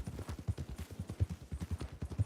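A horse's hooves clop in a quick, steady rhythm in Red Dead Redemption 2, with low, close thuds at a trot or gallop.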